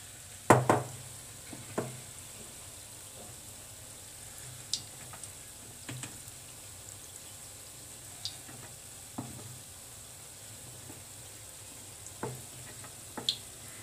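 Small gulgule balls of sweet jaggery batter fry quietly in hot oil with a soft, continuous sizzle, punctuated by occasional sharp clinks and taps from a utensil against the pan.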